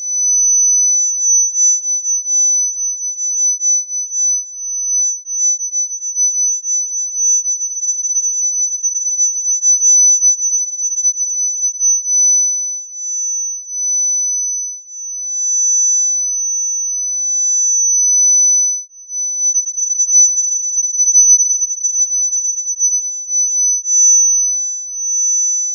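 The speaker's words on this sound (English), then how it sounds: "I'm going to play a 6K tone out of the speakers that you see" Steady 6 kHz sine tone played from stereo speakers, one continuous pure whistle whose loudness swells and dips as the microphone moves through the stereo field.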